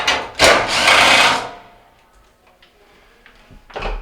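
Power driver backing screws out of a Whirlpool dryer panel, with a loud whirring burst of about a second followed by quieter clicks and handling noise, then a short final buzz.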